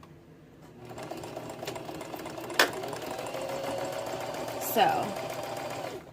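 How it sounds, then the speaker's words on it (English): A sewing machine stitches a stocking liner, running with a steady, even whir throughout and two sharp clicks partway through, while a voice speaks briefly at the start. "I just like to keep it together because that's how I sewed it."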